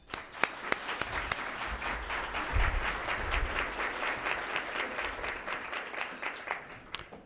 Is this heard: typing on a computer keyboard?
no